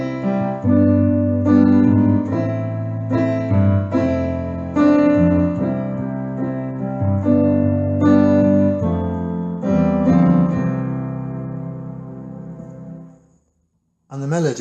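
Keyboard or piano with a low left-hand bass line under right-hand fill chords, played together in a steady rhythmic pattern, full and loud, with no voice, ending in a brief pause before a new note.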